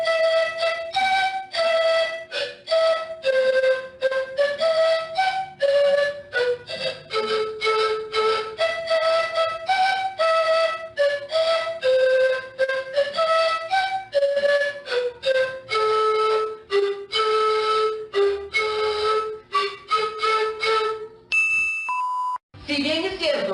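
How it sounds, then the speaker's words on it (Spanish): Zampoña (siku) panpipes with cane tubes in two rows, seven and six, play a continuous breathy melody of stepping notes for about twenty seconds, loud and close, then stop abruptly with a brief different tone at the end. "La zampoña, también llamada siku, es un instrumento de viento compuesto por tubos de caña"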